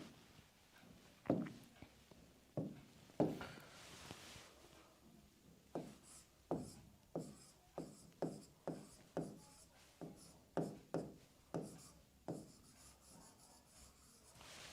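Marker or chalk strokes scratch across a classroom board in a finance lecture, a steady series of short, distinct rubbing strokes spaced about half a second to a second apart, close and fairly quiet.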